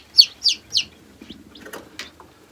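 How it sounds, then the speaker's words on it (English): Small birds in a garden chirp while they feed. Three quick, bright chirps come close together near the start, followed by faint, scattered twittering. "They're definitely enjoying their little feed and just chirping away and loving life."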